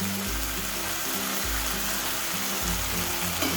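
Cabbage manchurian sautéing in a pan with ketchup, soy sauce and schezwan chutney, a steady close sizzle and frying hiss with a few soft stirring scrapes, no talking.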